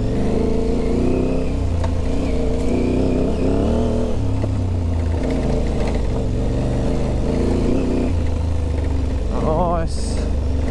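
An Aprilia Tuareg 660 motorcycle rides on a rough track, its engine droning steadily and loudly near the microphone with shifts in pitch as it accelerates, and a rider talks over it.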